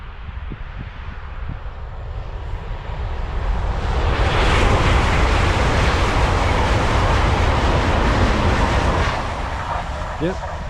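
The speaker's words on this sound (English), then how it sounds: "he said there's another train coming" Train passes near a causeway crossing on the way to Lindisfarne, a broad rumbling roar that swells and holds loud for several seconds amid wind noise, with people talking.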